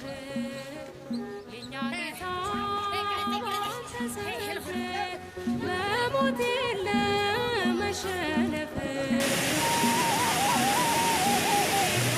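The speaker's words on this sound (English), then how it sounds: "The falls of Tis Izat, the smoking water. The water drops some 45 meters." Tis Isat falls on the Blue Nile, where water drops about 45 meters, roars as a dense, steady rush that comes in loudly after a stretch of tonal music.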